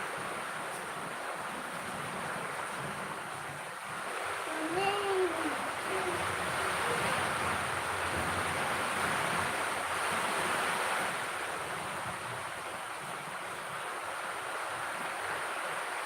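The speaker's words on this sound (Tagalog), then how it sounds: "Ang lakas ng ulan dito" Heavy rain pours at the foot of a volcano, a dense, steady roaring hiss with gusty wind, swelling slightly midway. A faint voice surfaces briefly.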